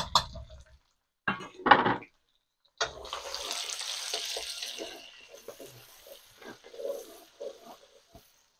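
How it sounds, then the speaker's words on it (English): Onion for Nigerian native jollof spaghetti hitting hot oil in a pan: after a few knocks and clatters, a bright sizzle bursts up and then settles into a softer, uneven crackle, with no talk. "I'm adding my onion now. And I'm going to saute this for some minutes."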